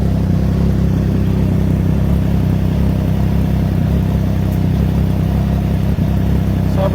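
Triumph Trident 660 motorcycle fitted with a Drift Exhaust Black Knight muffler runs with a loud, steady, close exhaust drone, holding an even throb with little change in pitch and a brief click near the end.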